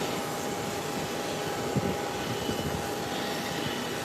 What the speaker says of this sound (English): Timely taxiing down the runway.